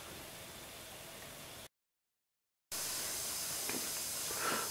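Fine water mist hissing steadily from a misting nozzle running at 75 psi, a close, even broadband spray broken by a second of silence before resuming just as strongly.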